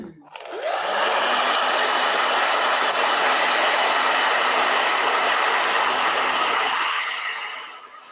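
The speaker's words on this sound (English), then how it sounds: "All right, blow dryer." A blow dryer switches on and runs loud and steady for about six seconds, a continuous whooshing roar that then winds down, with no talking over it.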